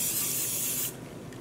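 A Misto pressurized spray bottle misting acid dye onto yarn gives a steady, close hiss that holds for about a second before cutting off abruptly, leaving quiet room tone.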